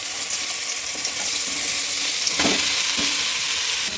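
Chopped vegetables go into hot oil seasoned with asafoetida and ginger-garlic paste for a momo filling, giving a steady broadband sizzle with a few sharp stirring scrapes near the middle of the clip; no voices.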